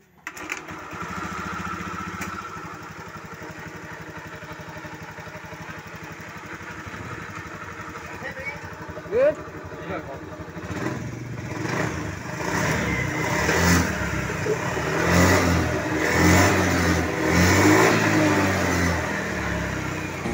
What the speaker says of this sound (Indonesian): Kalau kita engkol atau kita selah, ini motornya bisa hidup normal.